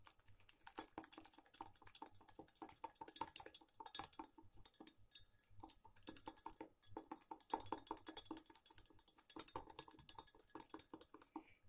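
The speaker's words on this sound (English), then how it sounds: "I will just whisk this together" A whisk beating ingredients for a homemade condensed cream soup, rapid rhythmic clinking and tapping against the bowl, fairly quiet and close, continuing with brief pauses.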